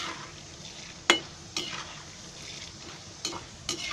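Dal frying in hot oil on a high flame for Konkani-style poha chivda, a soft steady sizzle broken by a few sharp stirring scrapes of a spoon against the pan, with no talking.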